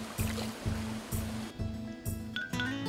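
Cool mountain stream water in a deep Gangwon-do valley below a mossy forest waterfall, splashing as a face is dipped in, with rhythmic scooping splashes close by over a steady rush of flowing water.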